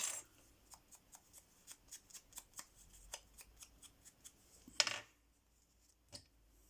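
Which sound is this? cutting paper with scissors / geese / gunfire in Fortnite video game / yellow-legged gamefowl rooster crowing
cutting paper with scissors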